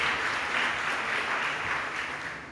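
An audience claps steadily for the NAM schools at a morning school event, a dense, sustained burst of applause from many hands with no speech over it.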